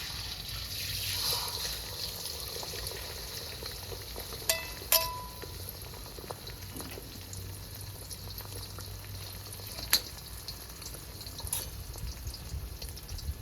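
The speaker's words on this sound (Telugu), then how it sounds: "బాగా కొట్టినావు గుడ్డు, పోయి ఆయిల్లో పోయి" Beaten egg poured into hot oil for street-style chicken egg fried rice sizzles and bubbles steadily, with a few sharp clinks and taps standing out over the even frying hiss.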